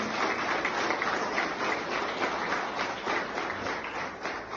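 Applause at an LIC agents' training event, an even wash of clapping from a seated audience, sustained and moderately loud for the whole stretch.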